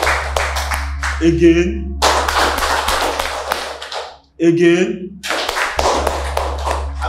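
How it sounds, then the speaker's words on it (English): Sharp hand claps ring out in short bursts during a classroom scene in a Nollywood comedy, each flurry of quick strikes broken by gaps where voices speak. "A round of applause for her."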